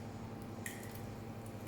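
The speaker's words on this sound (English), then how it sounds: "I'm going to crack them into a bowl." Eggs cracked into a bowl in a kitchen for poaching, with a sharp shell crack followed by a soft wet squish and a smaller click later, faint over steady background hum.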